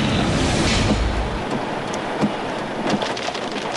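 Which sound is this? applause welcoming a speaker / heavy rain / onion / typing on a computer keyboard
heavy rain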